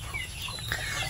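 Chickens cluck softly in a backyard farm amid a busy ambient background, a short burst of quiet fowl calls.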